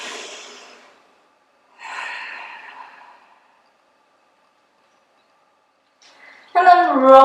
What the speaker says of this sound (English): Take 2 long deep breaths here